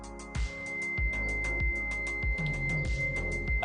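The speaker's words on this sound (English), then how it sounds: "That's my alarm." A brewing system alarm signals the end of the mash with a steady, sustained electronic tone that runs the whole time over busy, rhythmic background sound.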